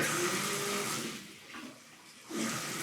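Water rushes from a bathtub faucet in an apartment bathroom, a loud steady splashing flow. It thins out briefly in the middle, then surges back to full strength.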